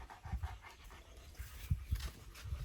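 A dog pants nearby in quick, rhythmic breaths, faint but steady, outdoors near farm fields by a river.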